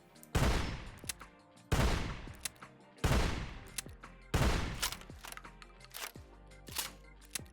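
A custom snub-nosed revolver from a Fallout 4 weapon mod fires four loud, booming shots at steady intervals about 1.4 seconds apart, each with a ringing tail, followed by softer mechanical clicks.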